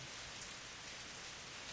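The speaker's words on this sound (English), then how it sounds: "In less than a minute, the rain turns into a full downpour." Heavy rain pours down in the visual novel Steins;Gate, a dense, unbroken hiss of a full downpour drumming on surfaces, loud and close with no pauses or voices.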